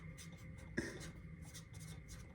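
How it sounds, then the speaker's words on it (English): A pen or pencil scratches across paper in short, quiet strokes, with one sharper tap partway through, faint and close with no voices. "I have to write that down because I will forget."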